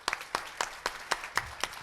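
Clapping from an audience at a film trailer and music launch event, heard as a steady run of evenly spaced, fairly soft claps rather than a dense roar.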